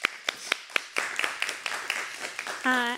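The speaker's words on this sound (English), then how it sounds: "Can we give them a round of applause?" Scattered, sparse clapping from a small group thanks guests at a food security and Three Sisters sustainability conversation, a few distinct claps at first, then a thin patter, ending in a brief tonal sound.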